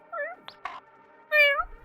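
Synthesized cat meows from the video game Gato Roboto: two short meows with a click between them, close and clear over a faint, steady background hum.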